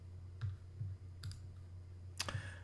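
A few soft, scattered computer mouse clicks, roughly four, sound faintly over a quiet low hum while someone reviews a panel site.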